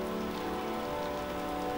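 Steady rain in typical Dutch weather patters continuously on a surface, forming an even, soft hiss with no voices.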